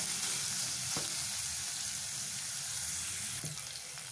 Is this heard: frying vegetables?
yes